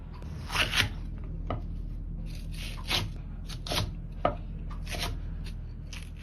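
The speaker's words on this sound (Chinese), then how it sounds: "然后再切成宽条" A kitchen knife slices chili peppers into strips on a cutting board, giving a series of crisp, irregular chops close up against a steady low background hum.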